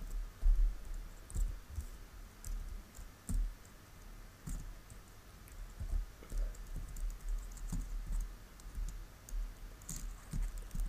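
Keys clatter on a computer keyboard as a username is typed into a search box, a quiet, uneven run of close clicks and taps with short pauses, with no voice.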